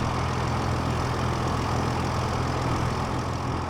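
A tractor engine in Farming Simulator 25 runs at a steady, low, rumbling idle, loud and unchanging for the whole stretch with no other sounds.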